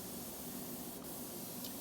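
An Anest Iwata LPH400 LV spray gun lays a coat of clear over pearl red paint on a Toyota Corolla, giving a continuous, even airy hiss that is faint and steady throughout.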